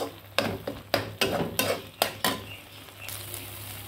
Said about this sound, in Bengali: এবার মশলাটাকে কিছুক্ষণ ঢেকে আমি কষাবো